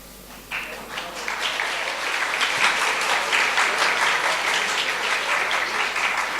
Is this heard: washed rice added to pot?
no